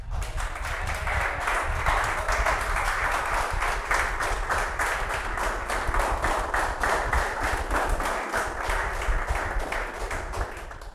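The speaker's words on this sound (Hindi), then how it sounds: "हमारे सुनील सर की खुशी में बच्चों ने बहुत गड़गड़ाहट ताली बजाई है" Children in a classroom clap loudly and continuously for the whole stretch, a dense, steady roar of applause with no pauses and no voices heard above it.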